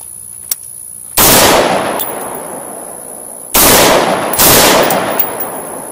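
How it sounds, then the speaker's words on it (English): A firearm fitted with a Sightmark Mini M Spec red dot sight fires several rounds at a range: sharp, loud reports come close together in two clusters, each followed by a brief ringing decay. "Let's fire off a couple more rounds."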